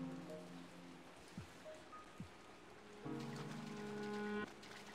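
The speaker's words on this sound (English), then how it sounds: "It is rainy." Soft rain falling in the video game Pikmin 3 Deluxe, a quiet continuous patter under tonal game music and a few brief soft effects.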